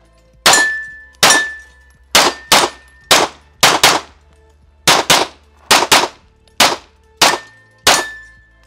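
Eleven sharp gunshots crack one after another at an uneven pace, several followed by a bright metallic ring from steel targets, loud and close with quiet gaps between.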